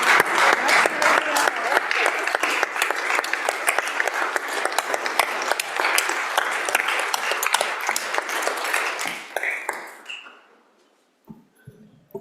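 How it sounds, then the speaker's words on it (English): A crowd applauds in a state Senate chamber, dense steady clapping for about ten seconds that thins into a few scattered claps and then quiet. "Give them a warm round of applause."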